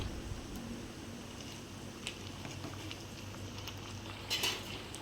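Vegetable curry masala kuzhambu bubbles gently in a pot, a soft low blubbing under a steady hiss, with an occasional faint clink of a utensil.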